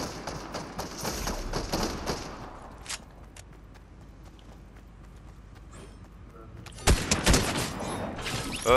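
Rapid gunfire bursts ring out in a video game and are loudest at the start. A quieter stretch follows before another sharp volley near the end, with game effects underneath.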